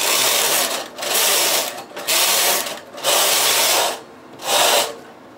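The lace carriage of a knitting machine is pushed back and forth across the needles to make a scalloped lace edge. Four loud, whirring passes, each about a second long, are separated by brief quiet gaps, up close, with no talking.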